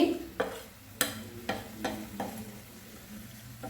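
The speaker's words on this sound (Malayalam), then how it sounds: "ഇതിനി നമുക്ക് നന്നായിട്ടൊന്ന് ഇളക്കി കൊടുക്കാം" Chili, coriander, pepper and turmeric powders for a fish curry are stirred in a pan, giving about seven short scraping strokes over a faint sizzle, close and quiet, with no talking.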